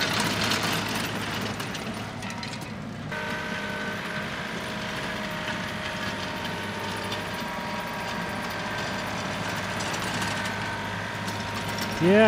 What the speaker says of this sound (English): looks like I need to tighten my slip clutch a little bit here